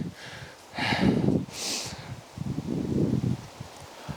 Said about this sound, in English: a very windy day here today